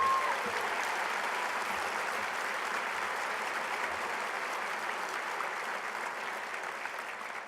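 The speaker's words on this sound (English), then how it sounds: "let's all give them a round of applause for their support" Steady audience applause at a veterans' organization event, a dense, even wash of many hands clapping that holds at a constant level for several seconds, with no voices over it.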